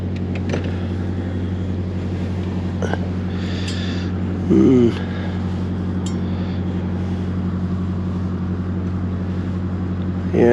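Cruiser boat engine running at 2,400 revs at about six miles an hour on the Norfolk Broads, a steady low drone throughout with faint wind and a brief clatter midway.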